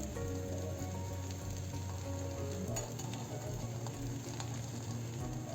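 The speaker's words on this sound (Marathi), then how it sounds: "छान असा आपल्याला खरपूस भाजून घ्यायचा" A radish-stuffed paratha crisps in oil on a hot griddle, giving a steady, faint, close sizzle with light crackling throughout and no voices.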